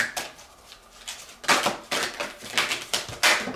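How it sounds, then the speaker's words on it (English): Oracle cards being shuffled by hand in sharp, irregular riffling bursts, each flurry ending in a crisp slap, close and fairly loud with no talking. "I'm compelled to shuffle some more."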